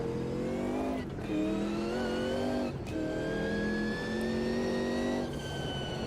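A race car accelerates on the Nordschleife in the Automobilista 2 video game, its engine note climbing steadily through the gears with brief dips at each of several shifts, loud and close throughout.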